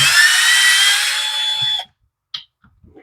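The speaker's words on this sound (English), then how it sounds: "So let's take these two screws off on the coil." A power tool backs two screws off the ignition coil of a Husqvarna engine, a steady high whine running loud for nearly two seconds before cutting off, followed by a few faint clicks and small handling taps.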